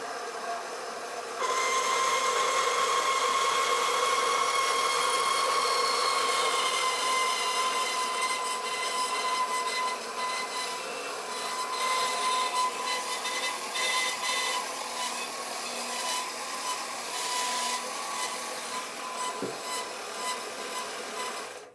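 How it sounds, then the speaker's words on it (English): A Harbor Freight band saw starts up and runs steadily through a test cut, giving a continuous high whine with a rattly mechanical texture, fairly close and with no talk. "Let's go ahead and make a test cut and see if it looks any better."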